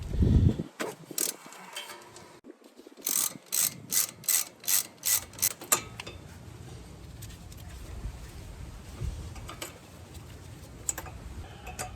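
A ratchet with a 12mm socket clicks in a quick run of about ten even ticks on a 2011 Toyota Highlander's brake line and speed sensor bracket, close by, followed by softer mechanical fiddling and faint clicks.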